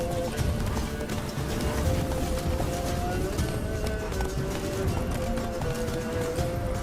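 Roach, a horse in the video game The Witcher 3, gallops with rapid rhythmic hoofbeats under moderate game ambience, with a faint voice present.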